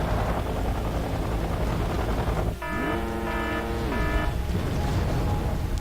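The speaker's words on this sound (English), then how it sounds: "He's got a bunch of helicopters, it looks like, coming in now." Helicopter gunships approaching in the video game Wargame: Red Dragon, a steady rotor and engine drone under game noise, with a tonal whine rising and falling in the middle.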